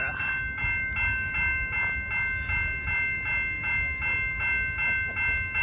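An Amtrak train approaching Fort Edward station, heard as a steady low rumble with a rhythmic clatter of wheels over rail joints and a sustained horn-like tone on top, growing near.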